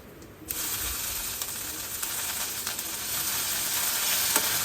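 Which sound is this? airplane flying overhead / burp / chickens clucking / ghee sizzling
ghee sizzling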